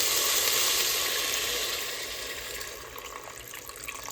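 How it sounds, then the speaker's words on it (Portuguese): Water pours steadily into a pressure cooker pot of sautéed, well-seasoned meat, making a loud, continuous rushing sizzle that eases slightly toward the end, up close with no talking. "E agora que a carne já tá bem refogadinha, eu vou colocar água."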